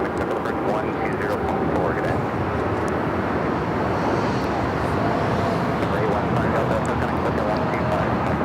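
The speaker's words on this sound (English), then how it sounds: "This takeoff is American Airlines 2018, taking off to Philly on the 787-8 Dreamliner." An American Airlines Boeing 787-8 Dreamliner takes off from LAX, a loud, continuous broadband engine roar that holds steady throughout, with faint background activity and no break.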